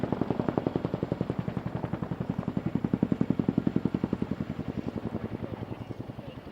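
An RAF Chinook helicopter flies a display at Cosford Airshow, its twin rotors beating in a loud, rapid, steady chop that swells and then slowly fades as it passes.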